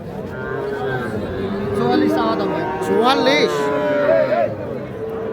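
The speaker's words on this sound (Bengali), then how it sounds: "এই পাশে দেখছি আমরা ষাঁড় বাচ্চা" Bull calves at a busy village cattle market, a low moo-like call rising under constant crowd chatter and someone talking nearby.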